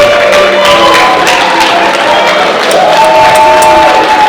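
Audience at a steampunk convention cosplay contest cheering and applauding contestants on stage, a steady loud wash of clapping with whoops and shouts, voices mixed in.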